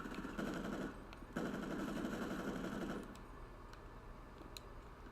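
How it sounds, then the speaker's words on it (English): Automatic gunfire in the video game Grand Theft Auto Online comes as two fast rattling bursts, then a thinner trailing patter. It is faint and distant-sounding with no talking. "I'm gonna come down here, and I'm gonna shoot you"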